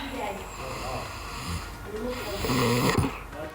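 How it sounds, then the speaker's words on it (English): A person snoring in the Big Brother UK house, several loud, rough breaths rising and falling close by, with a sharp snort near the end. "Snoring."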